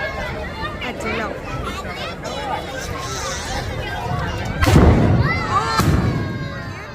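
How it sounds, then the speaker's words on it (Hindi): During Dussehra, a Ravan effigy explodes and burns: a crowd murmurs and shouts, then two loud, close bangs burst out near the end amid continuing chatter. "रावण को भी तीर मार दिया गया और उसमें विस्फोट के साथ जो है आग लग गई"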